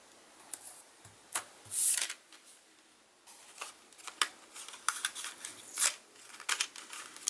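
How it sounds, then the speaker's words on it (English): Scissors snip through paper to cut out a card frame for a Christmas shaker card, giving a quiet, irregular run of short crisp cuts with small rustling pauses in between. "I'm going to cut this out twice"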